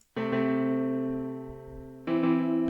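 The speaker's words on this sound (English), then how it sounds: "for the piano, I just used what's called an MDA DX10 piano" An MDA DX10 synth piano patch with reverb and delay adding slap back: one sustained, bright electric-piano chord rings and slowly decays, then a second chord is struck near the end, alone and fairly loud.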